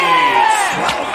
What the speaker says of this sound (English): Let's make some noise for our next participant.